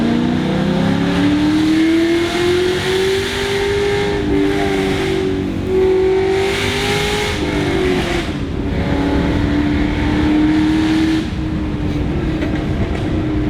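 The LS3 V8 engine of a 460 hp Chevy SS drones loudly and steadily up close, its pitch climbing, dipping and rising again as the revs change, with no talking.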